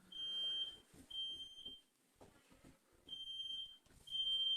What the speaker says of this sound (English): And I'm setting off my fire alarm, it sounds like.